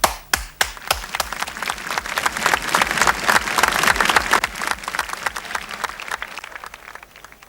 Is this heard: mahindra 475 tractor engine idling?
no